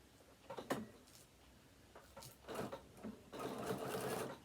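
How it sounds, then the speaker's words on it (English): A sewing machine stitches along both sides of a strip of velcro on a fabric tablet holder, running in several short, close bursts of mechanical whirring with brief pauses between, the last burst longest and loudest. "we're going to stitch along both sides of that velcro, and that's going to hold that in place nicely"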